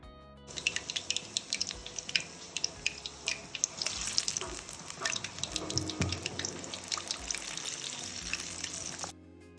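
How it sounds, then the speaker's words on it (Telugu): Garelu, soft lentil vadas for aavada, sizzle and bubble in hot oil with a steady, busy crackle and scattered pops and spatters, close and fairly quiet, with no talk. "పిండి తీసుకొని గారెలా చేసుకొని నూనెలో వేసి ఫ్రై చేసుకోవాలి"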